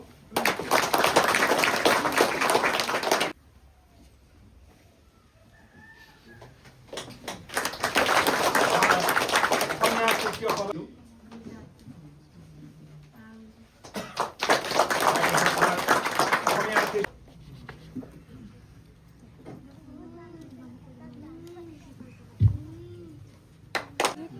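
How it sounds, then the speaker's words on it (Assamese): A congregation at the inauguration day of a Baptist church breaks into three rounds of loud, dense clapping, each lasting several seconds, with someone speaking over a microphone in the pauses between. "তেখেতক আমি আদৰণি জনাব বিচাৰিছোঁ সকলোৱে হাত তালি দিব"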